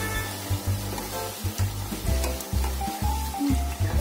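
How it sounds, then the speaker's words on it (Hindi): Masala roti pieces deep fry in hot oil, giving a steady close sizzle and bubbling with soft, repeated stirring knocks. No one speaks. "हम इनको गोल्डन ब्राउन होने तक तलेंगे।"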